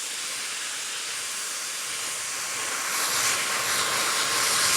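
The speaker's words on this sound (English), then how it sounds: "the loud noise of the jumbo jet that is that hairdryer" A loud hairdryer roars steadily in a salon, a broad jet-like rush of air that swells slightly louder toward the end, with no talking over it.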